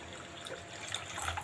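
Water is poured from a glass onto rice in a cooking pot for egg biryani, a faint, brief splashing trickle heard alone at low level.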